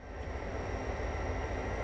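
A train in the video game Train Simulator 2015 gives a continuous low rumble with a faint steady whine above it, even and unbroken throughout.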